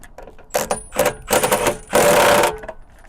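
Impact wrench removing the bolts of a Gen-Y Executive hitch on an RV, firing in three loud bursts of rising length, the last and longest nearly half a second, with brief gaps between them.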